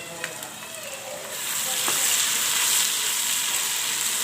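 Ginger, garlic and green chili paste frying in a pan for spinach mince curry, a soft sizzle that swells and grows steadier after a few clinks of stirring.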